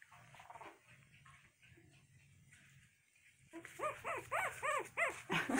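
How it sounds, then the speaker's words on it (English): Two-week-old puppies yap in a run of sharp, high, close barks in the second half, after a quieter stretch of soft low whimpering and rustling. "Oh my gosh, what a bark."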